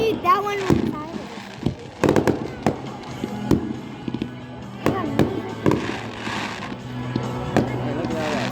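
Fireworks go off over a fishing marina in quick sharp cracks and rattling bursts, some in dense clusters, some spaced apart, while people chat nearby.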